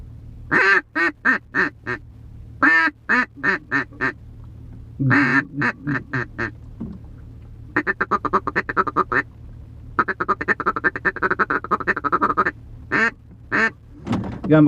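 A Pro Series duck call is blown to imitate quacking: loud, close bursts of nasal quacks in rhythmic series, some slow and spaced, others rapid, fast-chattering runs, separated by short pauses.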